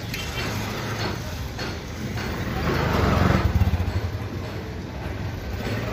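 A TVS Apache RTR 160 4V motorcycle engine runs at idle up close by the silencer, a steady putter that swells briefly in the middle before settling back.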